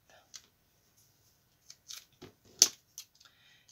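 Scissors snip foam embellishments for a spring-themed loaded envelope craft project, giving a few short, sharp, scattered cuts close to the mic in an otherwise quiet room.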